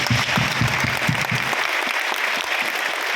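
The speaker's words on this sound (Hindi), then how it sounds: "मैं चाहूंगा उसके लिए जोरदार तालियां होनी चाहिए।" Loud, dense audience applause at a motivational speech event for the Tiens organisation, clapping steadily for about three seconds, with a low rhythmic thumping under the first half.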